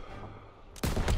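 A single loud, sharp sniper rifle shot in Call of Duty WW2, a World War II shooter game, cracking suddenly after a moment of quiet background ambience and ringing out briefly.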